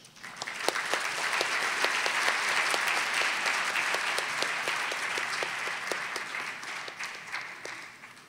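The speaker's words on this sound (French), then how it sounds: "On peut continuer à applaudir." An audience at a film festival's opening gala applauds steadily, a dense wash of clapping that rises, holds for about eight seconds, then begins to taper, with a few sharper individual claps standing out.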